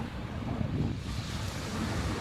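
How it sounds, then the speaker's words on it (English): Wind gusts outdoors in a steady broadband rush that buffets the microphone and rises and falls without letup, with no voices. "Oh, that wind's picking up."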